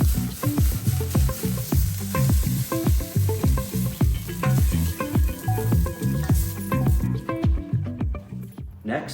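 Broccolini sears in a hot pan, crackling and sizzling loudly with rhythmic bursts as it is stirred and tossed, close and continuous.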